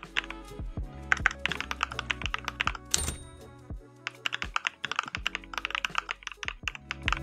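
Rapid typing on a computer keyboard, crisp clicky keystrokes in quick irregular bursts with occasional heavier key thunks, close up.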